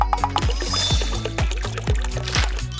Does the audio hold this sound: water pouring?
yes